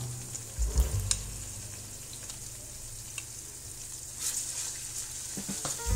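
Onion frying with two tablespoons of ginger-garlic paste in a pan, a steady low sizzle with occasional stirring scrapes and small pops throughout, close and fairly quiet.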